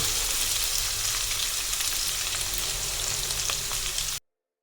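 Ingredients sauté in hot oil, reused from frying chicken, with a loud, dense, steady sizzle and crackle close by, ending abruptly.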